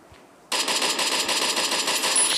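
Loud burst of automatic gunfire in a battle royale video game, starting abruptly after a short quiet moment and continuing as a dense sustained rattle.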